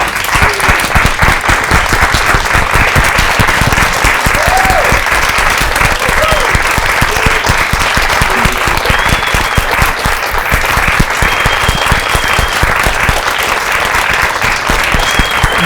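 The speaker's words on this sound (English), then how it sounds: "I would really appreciate if each of you will stand to your feet and give them a round of applause" A standing audience at a launch event gives a loud, dense round of applause that runs unbroken for over fifteen seconds, with faint voices and cheers mixed into the continuous clapping.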